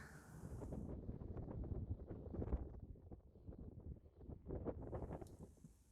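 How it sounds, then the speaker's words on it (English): Strong wind buffeting a camper van parked at a countryside site, heard from inside as a low, gusty rumble and rustle that rises and falls without a break. "The wind is getting up though"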